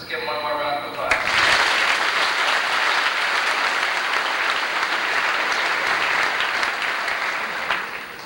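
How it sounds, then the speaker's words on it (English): Audience applause at a 1988 Faribault High School Class Day ceremony, a full steady round of clapping from a large crowd that swells after the first second and carries on evenly for about seven seconds before tapering slightly. "Let's give him one more round of applause."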